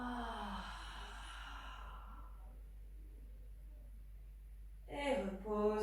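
A long, audible exhale during a Pilates exercise, a breathy sigh that trails off into near silence before a voice speaks.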